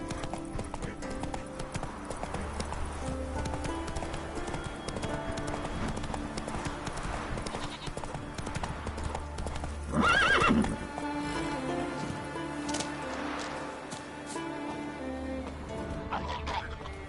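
A horse in The Witcher 3 gallops at length, hoofbeats drumming steadily under game music, with a loud, close neigh bursting out midway and another whinny later on.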